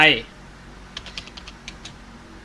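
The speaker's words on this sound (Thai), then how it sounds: "แล้วก็พิมพ์ชื่อนามด้วย ตามด้วยนามสกุล" Keys tap on a computer keyboard as a name is entered, a short run of light, evenly spaced clicks after a brief voice at the start.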